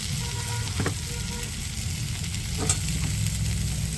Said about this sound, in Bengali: দিয়ে ভালো করে আর একটু কষিয়ে নেব।